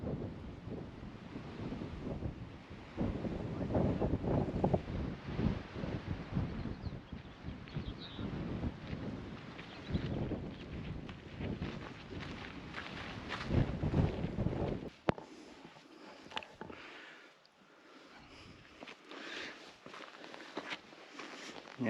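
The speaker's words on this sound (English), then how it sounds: "sorry for the wind" Strong, gusty wind buffets the microphone in Whitewater Canyon after rain, a loud low roar that surges and drops for about fifteen seconds, then eases into quieter rustling.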